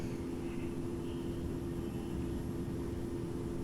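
Airliner engines at full throttle in a flight simulator game, a faint steady whine and roar with a humming low tone, continuous and without voices.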